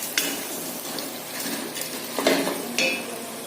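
Mutton biryani mixture being sautéed and stirred in a pan, with a low sizzle under scraping and clinking of a spoon against metal, several close stirring strokes in uneven rhythm.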